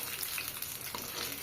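Pitha fries gently in oil over low heat, giving a steady, fine crackling sizzle with a soft scrape of flipping, fairly quiet and close.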